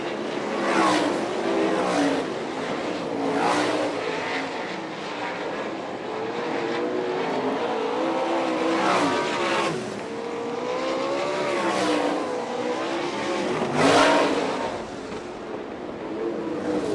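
Sprint cars roaring around a dirt oval on the final lap of an All Star Circuit of Champions Ohio Speedweek race at Fremont, Ohio, engines rising and falling steadily as cars pass, with a faint voice underneath.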